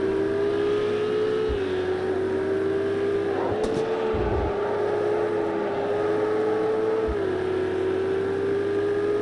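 Race car engine in Project Cars 2 online racing at Barcelona, droning steadily at high revs with two brief throttle prods that make the pitch dip and surge, loud and close with no talk.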